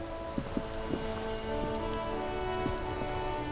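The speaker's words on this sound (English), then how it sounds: "It's raining again." Rain falls steadily in the video game Disco Elysium, with a constant patter of drops on surfaces and a few louder individual drips standing out near the listener against a soft low tonal hum.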